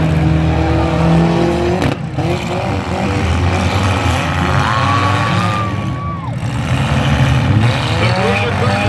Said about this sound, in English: I see 6 cars still running